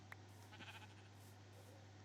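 A Minecraft sheep bleats once in a short, faint, nasal call over a steady low background hum.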